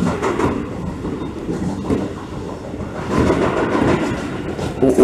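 Close, continuous rumbling of a Keio 9000 series commuter train running on its tracks between Chofu and Fuchu, with rhythmic clacking and rattling from the carriage as it rolls along.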